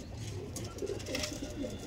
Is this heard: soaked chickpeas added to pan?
no